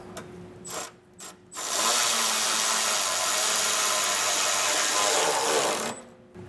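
A power ratchet with a hex head bit drives bracket bolts on a 2022 Ford F-250 frame during a Firestone air bag install: a few short bursts, then a sustained loud whirring run of about four seconds, up close.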